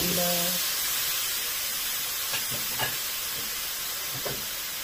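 Onion sizzles in a hot pan while okra and kofta tagine is cooked, a steady, loud hissing fry running throughout with a few faint clinks and soft sounds over it.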